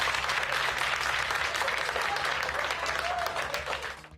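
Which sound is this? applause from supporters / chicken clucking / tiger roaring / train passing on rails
applause from supporters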